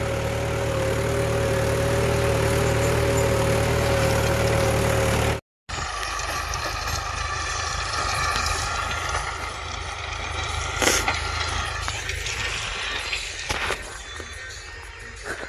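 A farm tractor runs in high second gear during garlic field preparation, its engine giving a steady, loud mechanical drone throughout, briefly cut off by a gap before resuming with rougher broadband noise.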